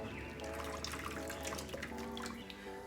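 Water runs from a tap into a plastic jug, a steady close splashing stream whose pitch shifts as the jug fills.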